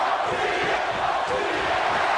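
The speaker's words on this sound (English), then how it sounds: "The crowd is chanting for Randy, now the Chicago natives behind their own man in CM Punk" A large arena crowd chants in the WWE 2K25 wrestling game, a loud, sustained wall of voices roaring continuously without pause throughout, heard close and filling the space.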